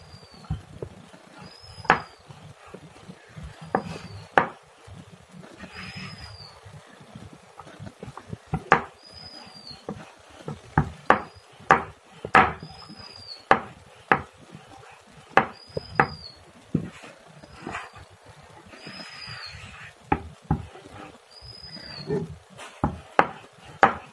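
Roti dough being rolled out with a wooden rolling pin on a board for a picnic meal, giving repeated knocks and thuds at an irregular rhythm with soft rolling scrapes between them, close by and moderately loud.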